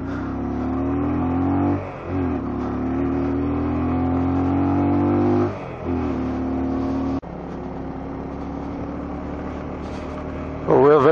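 A vehicle climbs a mountain road toward Babusar Pass, its engine straining and revving, then dropping briefly with each gear shift before pulling up again, loud and close, with a voice talking over it.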